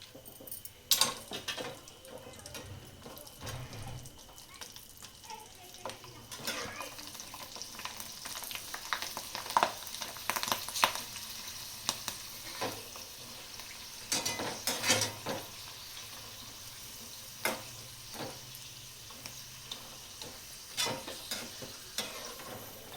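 Sago and potato chakli fry in hot oil with a low, continuous crackling sizzle, punctuated by occasional metal clinks and stirring sounds from utensils and the pan.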